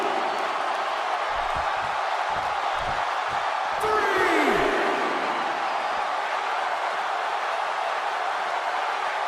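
A big video-game wrestling crowd in WWE 2K17 roars as a steady broadband wash, with a brief swell and whoop near the middle and a few dull thuds underneath.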